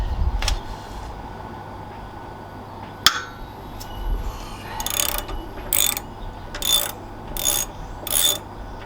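A hand ratchet undoes bolts on a 2021 Harley-Davidson Sport Glide during a pannier guard install, a quiet clack, then a run of five or six close, bright ratcheting bursts in a steady rhythm.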